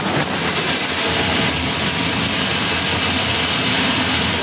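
A grain pit drag auger runs with a steady, loud, dense mechanical roar and low engine-like drone, continuous and unbroken throughout.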